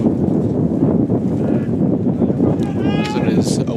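Gusty wind buffets the microphone at an outdoor Ohio high school varsity baseball game at Mason High School, a loud, steady low rumble with rising and falling gusts throughout.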